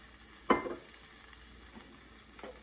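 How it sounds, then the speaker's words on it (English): Shrimp frying high and fast in hot olive oil in a pan, a steady close sizzle with one sharp scrape or clatter early on and a fainter stir near the end. "Pretty well hot this time because shrimp should be cooked high and fast."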